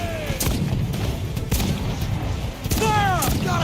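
Ship cannons boom in a naval battle in Assassin's Creed Black Flag, several heavy blasts spaced across the moment amid game ambience and creaking sounds.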